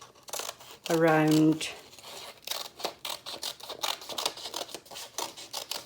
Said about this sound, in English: And I'm going to cut